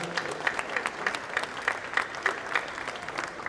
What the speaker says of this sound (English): give a great big round of applause for all the staff and volunteers that put all of this together